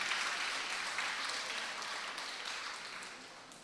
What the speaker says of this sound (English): A big round of applause for yourself for having chosen literature.